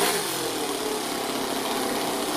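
Toyan FS-L200 model engine running in an RC Ford F450 truck with smokestack exhausts, a steady buzzing hum held at an even, fairly loud level throughout with no speech.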